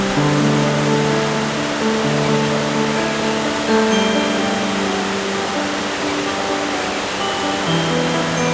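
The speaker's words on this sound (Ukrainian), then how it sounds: "вода поміж смарагдовими лісами і каменюками спадає із висоти 7 метрів" Water falling seven metres through a break in a mountain ridge, amid forest and boulders in the Skole area, roars as a steady broadband rush, loud and continuous throughout with no voices.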